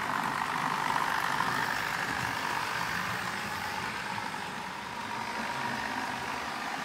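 A Bachmann class 159 model train in South West Trains livery runs at half speed, producing a soft, steady motor whir and rolling hum that holds evenly throughout, fairly quiet and close, with no talking.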